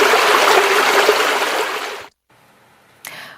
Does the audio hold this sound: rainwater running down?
yes